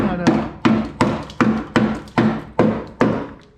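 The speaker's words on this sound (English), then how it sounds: "Basically just take a little ball peen and just tap on it, and you can see the chunks" A ball peen hammer strikes metal, knocking off chunks in eight sharp, evenly spaced taps, each a close, ringing knock with a short decay.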